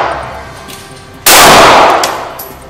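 A single loud, close gunshot from a Kimber Solo CDP compact snub-nosed pistol cracks sharply and then rings out in a short decaying tail, with no talking.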